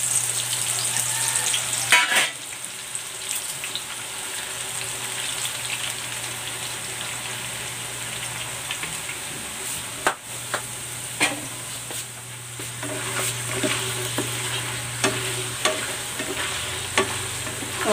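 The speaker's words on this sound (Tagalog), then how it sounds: "Ipiprito ko na itong hiniwa kong kamote." Sliced sweet potato deep-frying in hot oil for crispy chips, a steady dense sizzle and bubbling that holds throughout, close and fairly loud, with occasional clicks of a utensil stirring the slices.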